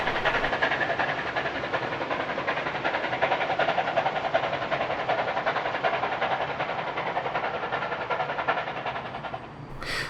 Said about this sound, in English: (4201) is now hauling the train back to Central.